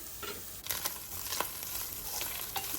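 Onions and peppers sautéing in a covered pan give a steady sizzle, broken by a few sharp clinks and stirring scrapes that rise above the frying.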